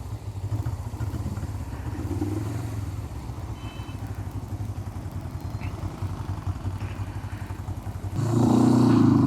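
Motorcycle engine held at high revs while riding through Islamabad, a steady close buzzing drone with rattling clatter, swelling louder near the end as the throttle opens.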